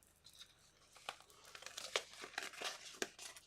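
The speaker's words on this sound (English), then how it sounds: "Now we're just going to do a little peel and reveal." Print peeled slowly off a gel press plate in a craft session, a close, quiet run of sticky crinkling and tearing crackles with a few sharper snaps, heard alone.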